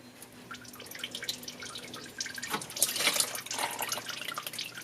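Coolant dribbles from the removed lower radiator hose of a Mazda MX5 Miata into a catch container, a soft irregular patter of drips that thickens briefly into a light trickle, quiet and close.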